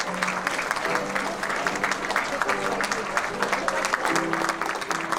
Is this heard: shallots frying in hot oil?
no